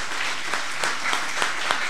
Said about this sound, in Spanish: ¿Por qué no le da un fuerte aplauso al Señor por eso?